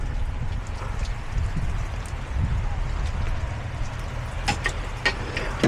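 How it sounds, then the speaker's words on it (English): Rain falls outdoors during a leaf spring replacement on a Peterbilt 389 semi truck, a steady close patter of drops with a few sharper splashes near the end. "Okay, there goes the rain."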